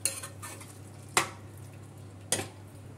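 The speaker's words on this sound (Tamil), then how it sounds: "இப்போ வந்து நல்லா கலந்து விட்டு இப்போ வந்து ஸ்டவ் ஆஃப் பண்ணுறேன்" A spoon stirs hotel-style vadacurry in a pot, giving a few sharp clinks against the metal at irregular intervals over a quiet, low kitchen hum.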